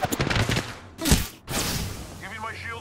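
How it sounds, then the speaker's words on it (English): Apex Legends gunfire with a rapid stutter of close shots early on, then a heavy thump and a short pause, followed by in-game chatter and tonal effects. "Taking fire, bros."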